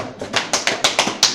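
A knocking signal marking ten seconds left in a fight round: a series of about seven sharp, evenly spaced knocks, close and fairly loud, with no voices over them.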